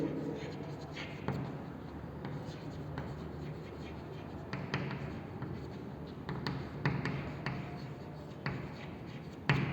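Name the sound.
writing by hand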